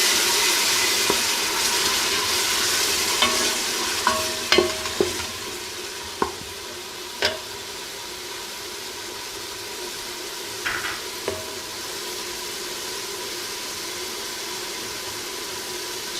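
Onion frying in a pot of olive oil and vegetable oil, a quiet continuous sizzle with scattered utensil clicks and a few soft knocks against the pot.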